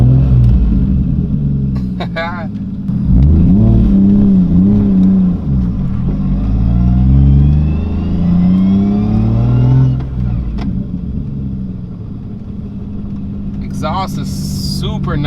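Lexus IS300 fitted with a 1JZGTE engine driving with a loud exhaust, a deep rumbling drone that swells and falls through revs for most of the span, with a voice briefly talking underneath.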